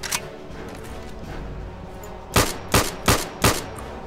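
A gun in the video game RTCW fires four sharp, loud shots in quick succession at roughly even intervals near the end, following a quieter stretch of low background game noise.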